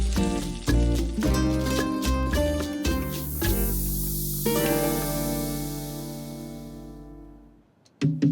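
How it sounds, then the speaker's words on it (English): Eggplant slices sear on a hot griddle with a soft, even hiss that swells midway and fades away, heard beneath loud background music. "We are going to start searing the eggplant slices on a hot griddle."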